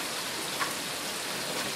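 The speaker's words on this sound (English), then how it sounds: "And that's the first rain for a whole month." Steady rain falls during a thunderstorm in League City, a dense, even hiss of drops on surfaces with no thunder or voices.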